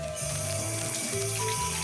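Toilet in a cafe restroom flushing with a steady rush of running water, close and continuous, with faint mechanical clicks and tones over it and no talk.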